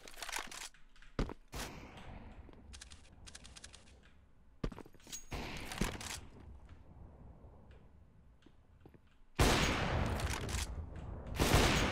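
Gunfire in a one-versus-one shooter video game, with sharp bursts of shots scattered through the clip and a loud, dense volley near the end.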